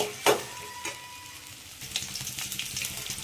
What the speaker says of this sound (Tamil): வெண்டைக்காயில் உள்ள பிசுபிசுப்பு தன்மையெல்லாம் போகணும், அது வரைக்கும் நல்லா வதக்கணும்